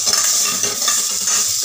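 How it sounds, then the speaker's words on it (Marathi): Roasted chillies stir-fried with a whole packet of Maggi masala in a pan over low flame, a close crackling sizzle with frequent scraping and tapping of a spatula against metal, no speech. "पूर्ण पुडी टाकून देते मी, आणि याला परतवून घेते."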